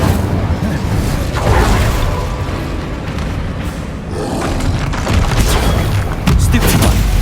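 An Incendio fire spell cast in Hogwarts Legacy during combat, with loud rumbling bursts and roaring booms that surge and fade over several seconds, mixed with other battle noise.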